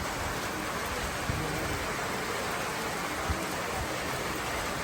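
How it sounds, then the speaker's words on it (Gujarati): Steady, dense rainfall pours down continuously, a loud unbroken hiss of heavy rain with occasional faint low rumbles beneath. "વરસાદ ચાલુ થઈ ગયો છે ફૂલ"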